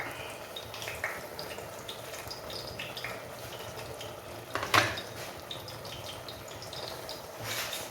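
Mustard seeds splutter in hot oil in a pan, scattered small pops and crackles over a low sizzle, with one sharper clatter midway, no voices.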